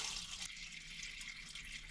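Coolant drains from the radiator drain plug of a 2000 SVT Lightning pickup during a motor swap, a faint, steady liquid trickle and splash, quiet and continuous.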